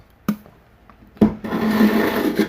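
A rusty knife blade is drawn across a moistened sharpening stone, with a sharp tap, then a sustained rasping grind lasting about a second, fairly close and clear with no talk.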